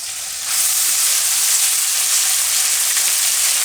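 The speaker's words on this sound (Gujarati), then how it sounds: "હવે આમાં ભાત નાખી દઈશું આપણે." Cooked rice dropped into a hot pan for orange fried rice, setting off a sudden loud, steady sizzle and fry hiss that starts half a second in and holds, close and without talk.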